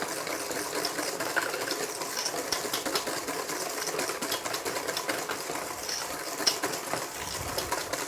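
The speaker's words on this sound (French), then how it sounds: "Alors, on met à tourner les blancs d'œufs." Electric mixer whipping egg whites: a continuous, loud whirring buzz with a fluttery, rattling texture that holds steady for the whole stretch, with no speech.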